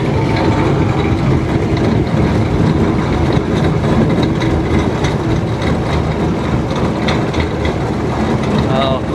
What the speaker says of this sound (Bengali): কেবল কার ছেড়ে দিয়েছে